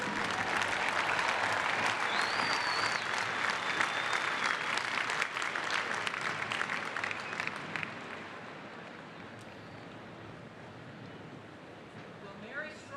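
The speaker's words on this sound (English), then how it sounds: "Once again, let's give them a big round of applause." Large commencement crowd applauding doctoral degree recipients at a university graduation ceremony, a dense sustained wash of clapping that gradually thins and fades toward the end, with faint voices mixed in.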